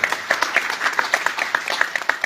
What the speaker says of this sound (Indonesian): Tepuk tangan dong buat Karang Tarunanya.